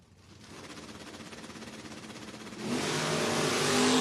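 A second-generation Camaro and another door car accelerate hard down a drag strip, with a rough, pulsing engine roar that suddenly grows louder and brighter partway through and keeps climbing to the end.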